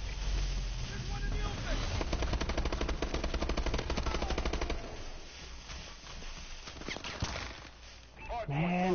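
Steady bursts of rapid automatic fire in Call of Duty: Advanced Warfare rattle for several seconds, then drop to scattered battlefield noise with voices talking over it.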